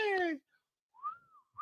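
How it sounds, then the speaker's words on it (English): A person whistles one short note that rises and falls, heard just after a brief burst of voice, fairly quiet and close. "I don't even know how to whistle like that."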